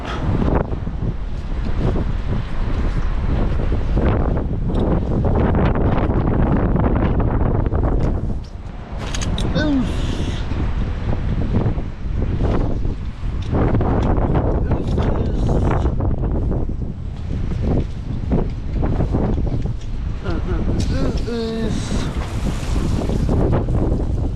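Strong wind roars and buffets the microphone continuously on a windy day while abseiling on a rope, with water sloshing nearby and occasional creaks.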